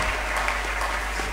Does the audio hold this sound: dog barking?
no